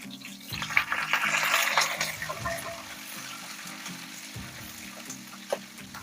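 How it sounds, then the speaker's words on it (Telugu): Garlic, mustard seeds, cumin, onion, curry leaves and dried red chillies sizzle in hot oil for a gongura prawn curry, a busy crackling fry with stirring clatter that is loudest early on, then settles into a steadier hiss. "ఇవన్నీ కొంచెం సేపు వేగనిద్దామండి."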